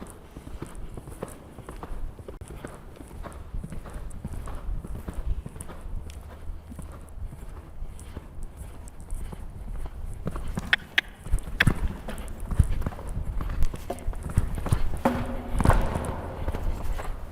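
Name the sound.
horse hooves clip-clopping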